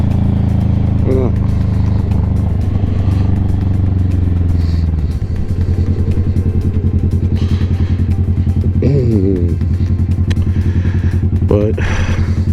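Kawasaki Vulcan S motorcycle on a ride, a loud steady engine drone with rising and falling revs and wind rumble throughout, while someone talks over it.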